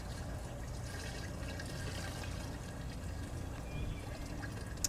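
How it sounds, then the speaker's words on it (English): About three gallons of filtered waste vegetable oil is poured into a biodiesel microbatch container, giving a continuous soft glugging pour close by and fairly quiet, with a small clunk at the end. "here's 3 gallons of waste veggie oil. I'm going to dump this right in."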